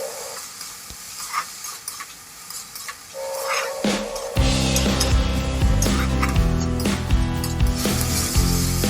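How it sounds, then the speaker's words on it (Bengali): Onions go into a pan of ladyfingers and start frying, a quiet clatter of stirring giving way to a loud, steady sizzle that carries on to the end. "এখন আমি ভেন্ডিগুলোর সাথে পেঁয়াজ অ্যাড করে দিচ্ছি। আর পেঁয়াজগুলো একটু ভালো করে ভেজে নিচ্ছি।"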